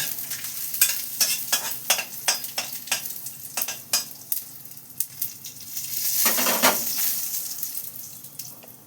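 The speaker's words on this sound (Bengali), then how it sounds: "গোটা জিরে বেশ খানিকটা দিয়ে নিয়েছি" Whole cumin seeds sizzle in hot oil for a vegetarian dal with peas and vegetables, giving a steady crackling hiss broken by sharp scraping stirs and a louder sputtering burst near the end, close up with no talking.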